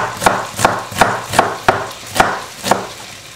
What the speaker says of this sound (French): émincez les oignons.